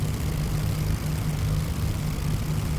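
Avro Lancaster, Aeroplane Heaven add-on, flown in a VR flight simulator: a steady, heavy low drone of multiple piston engines with a throbbing hum and constant airy noise, continuous and close.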